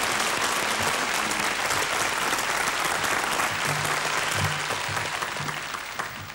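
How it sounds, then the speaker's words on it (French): Sustained, loud studio audience applause at a French television game show, dense clapping filling the whole stretch with only a slight fade near the end. "sous les applaudissements nourris"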